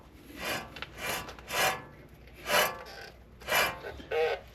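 Worn wheel bearing on a 2008 Ford F-350 4x4 Harley-Davidson edition with the 6.4 Powerstroke, giving a close, repeated rasping grind in even pulses roughly every half second to second, with no talking.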